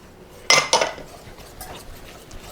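Sourdough brownie batter with chocolate chips and baking powder being mixed in a bowl: two quick clinks of a utensil against the bowl, then soft scraping and stirring noises.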